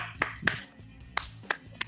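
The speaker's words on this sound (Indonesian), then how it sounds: "Tepuk tangan dulu untuk kita semua." Sparse clapping from a small audience at a talk on coronavirus myths: five separate, sharp hand claps spaced unevenly in a quiet room, with no talk over them.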